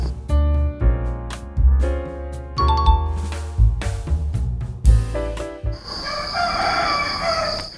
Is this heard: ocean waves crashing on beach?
no